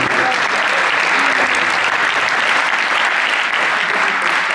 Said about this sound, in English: Give them a round of applause back to the audience.